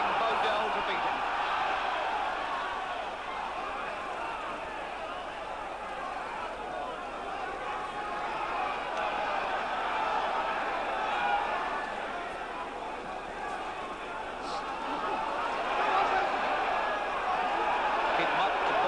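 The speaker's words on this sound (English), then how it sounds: "this Wembley crowd is willing Bodell to beat him" The Wembley crowd at the Jack Bodell versus Joe Bugner heavyweight boxing bout makes a constant rumble of cheering and chatter, swelling in places, while a commentator talks over it.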